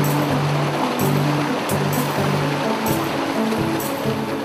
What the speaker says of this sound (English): If you follow one of the many mountain trails, you will reach the Lagting waterfall.